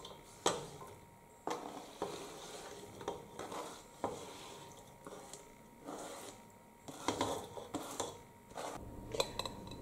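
Vegetables for a cabbage dish are stirred in a pan, giving a soft sizzle under repeated clacks and scrapes of a utensil against the cookware at an uneven rhythm.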